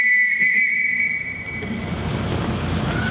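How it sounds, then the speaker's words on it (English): A sharp, steady whistle blast rings out for over a second to call the children in a high school stage production of The Sound of Music, then fades into a noisy, rumbling hall. "Everyone in this house answers to a whistle."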